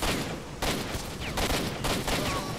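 Rapid, sustained bursts of gunfire from the video game S.T.A.L.K.E.R.: Shadow of Chernobyl, loud and close, with dense overlapping shots and brief sharp cracks throughout.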